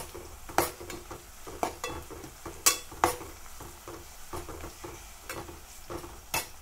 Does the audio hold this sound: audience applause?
no